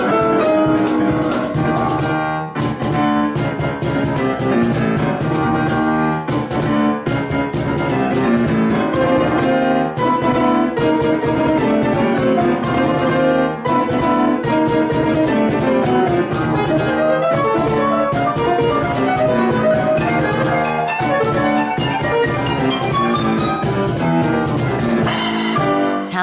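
Soundtrack music from a PlayStation 1 RPG plays continuously and loud, with dense layered instrumentation and no talking.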